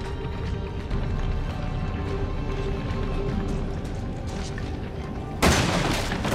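Heavy gunfire from a shotgun in Resident Evil 7: one loud, sharp blast near the end follows several seconds of dense, rumbling in-game ambience and low booms.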